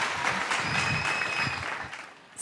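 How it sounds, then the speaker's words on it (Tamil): A school annual day audience gives steady, dense applause for the host at a golden jubilee celebration, a continuous moderately loud patter of many hands, with a faint steady tone running through the middle. "அந்த கிளாப்ல பாடும்போது அக்காக்காக ஒரு பெரிய கைத்தட்டல் கொடுங்க."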